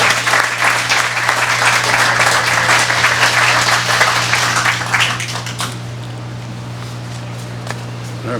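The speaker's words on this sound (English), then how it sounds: "I'd like to all of you give them a round of applause for their service." A room of people gives a round of applause, dense clapping for about five seconds that then quickly fades to a low hum and a few stray claps, with no speech.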